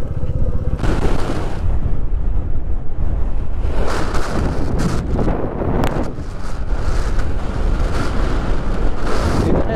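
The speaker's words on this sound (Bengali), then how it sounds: "এখানে এত হাওয়ার জোর পুরো ঠেলে ফেলে দিচ্ছে প্রায়" Strong mountain wind in Lower Mustang, Nepal, buffets the microphone in loud, continuous low rumbling gusts that swell and ease throughout, with no voices.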